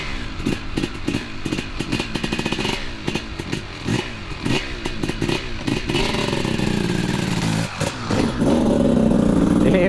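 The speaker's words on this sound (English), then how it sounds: "We are just going to run the bike up and down a straight here" A dirt bike that has never been run on dirt is revved hard along a straight during a power test, with choppy bursts of engine noise and clatter giving way to a sustained rising roar.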